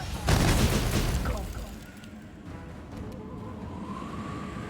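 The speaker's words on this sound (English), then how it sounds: "And let's have some fire bolts here." Fire bolt spells are cast in the Pathfinder: Wrath video game, opening with a loud fiery blast and rumble that gradually fades into quieter battle ambience with a faint rising tone.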